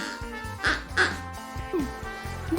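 A duck down in a hole, guarding its eggs, gives a few short nasal quacks in quick succession at close range over a low background murmur.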